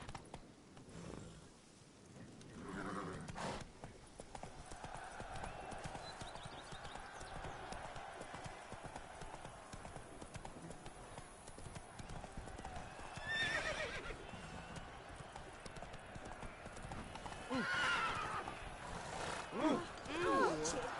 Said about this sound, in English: Go, go. Come on, Roach